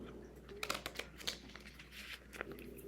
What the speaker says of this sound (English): Shuffle these up really good.